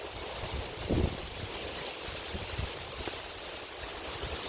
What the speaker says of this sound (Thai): อู้ลมแรง